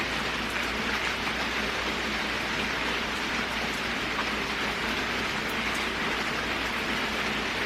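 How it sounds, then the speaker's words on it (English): Dense, steady rain falls onto a sidewalk, an even close hiss with scattered drop patter and a low background hum, no voices. "it's like a really pretty rain"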